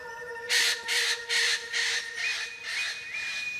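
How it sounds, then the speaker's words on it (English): An Eclectus parrot gives a run of about seven harsh, evenly spaced squawks, loud and close, with a faint steady tonal hum behind. "Eclectus parrots are the pinnacle of parrot evolution."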